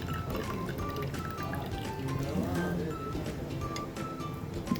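Sweet cooking water from boiled hairy gourd poured into a prepared sauce, a steady, continuous liquid pour at moderate volume throughout.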